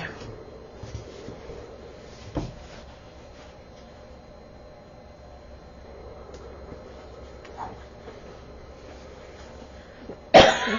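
A woman coughs once, sharply and close, in a quiet room during a relaxed cross-stitch chat, with a few faint clicks and a louder rustle at the end.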